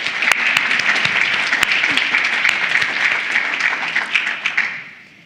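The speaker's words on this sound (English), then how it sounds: "Please, another round of applause for the representative." Sustained audience applause at a Legal Services Corporation 50th anniversary forum, dense steady clapping from a large crowd lasting about five seconds before tapering off at the end.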